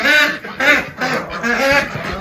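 Ducks in a backyard flock quack in repeated nasal bursts close by, filling the short stretch with overlapping calls at steady loudness.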